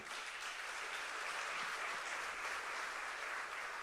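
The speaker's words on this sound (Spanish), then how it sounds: "Dele un aplauso por el amor de Cristo." A church congregation applauds during a sermon, steady dense clapping filling the whole stretch at moderate distance, alone without talk.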